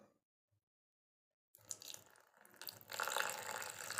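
Water poured into malpua batter in a bowl, a short silence and then a splashing, trickling pour that grows louder and fuller toward the end.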